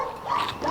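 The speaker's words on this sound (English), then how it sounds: "He's such a good dog." A rescued reservation dog barks or vocalizes briefly in a quick, fairly loud burst at close range, with no talk over it.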